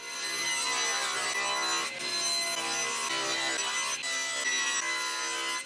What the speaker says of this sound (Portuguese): Depois, levei elas à serra de bancada e cortei na largura certa.